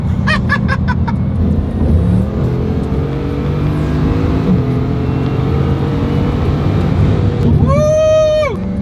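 A Hermes Bugatti Chiron drives along with a steady, close engine and road drone that lasts the whole stretch, and a brief rising tonal sound appears near the end.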